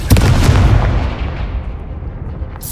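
A Confringo fire-blast spell detonating in a Harry Potter-style video game, a single loud booming burst right at the start that rumbles and slowly fades over a couple of seconds.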